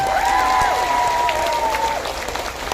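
Steady crowd applause for an honoured guest at an Islamic religious gathering, a loud continuous patter lasting nearly three seconds, with a sustained held voice or tone running above it for the first two seconds before the clapping eases off.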